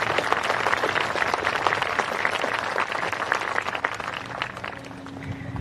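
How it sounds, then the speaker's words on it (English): Sustained applause from a crowd at a high school graduation ceremony for graduating seniors, dense steady clapping at a moderate level throughout, fading slightly toward the end. "Can we get a round of applause for the graduating seniors this year?"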